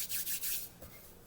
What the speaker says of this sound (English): I like to fold and press, fold and press, fold and press.